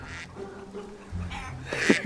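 Short bursts of chicken calls nearby, a few clucking squawks rising toward the end over an outdoor murmur at a vineyard in Marlborough, New Zealand.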